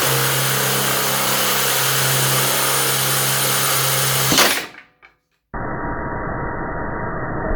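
A power drill with a 1/2 inch bit boring into a table saw zero clearance insert, a loud steady whine that cuts off abruptly partway through, followed by a brief silence and then a flat, duller noise.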